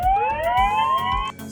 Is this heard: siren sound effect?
yes